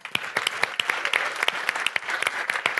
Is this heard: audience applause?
yes